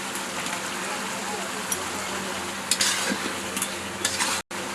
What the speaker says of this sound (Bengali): হালকা নাড়াচাড়া করে এবার নামিয়ে নেব